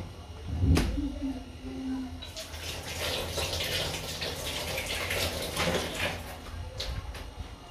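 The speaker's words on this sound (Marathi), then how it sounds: "आलं धुवून घेते." Tap water runs steadily into a sink while fresh ginger is washed in a home kitchen, a continuous mid-level splash with a knock and light clatter early on.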